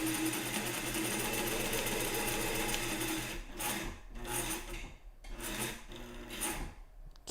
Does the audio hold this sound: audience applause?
no